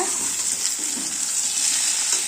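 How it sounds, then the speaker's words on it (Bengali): Potatoes frying in a pan in a home kitchen, a steady, close hiss of bubbling oil running evenly throughout with no breaks. "এই যে এখানে আলু ভাজা চলছে"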